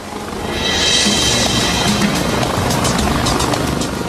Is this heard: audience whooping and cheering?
no